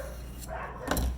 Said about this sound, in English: I don't know why my dogs are losing their minds, but they are.